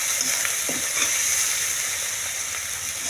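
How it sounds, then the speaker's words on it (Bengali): Chopped onion with ginger and garlic fries in a pan, a steady bright sizzle and hiss with a few soft stirring scrapes. "পেঁয়াজ কুচি দেওয়ার পর এটাকে ভালো করে আমরা ভেজে নেব"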